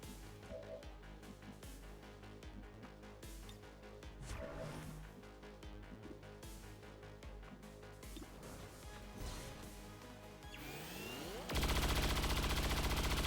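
A trench gun in a video game fires a long stream of rapid, dense shots over a layered game soundtrack. Near the end it ends in a loud, sustained crashing roar, with no one talking.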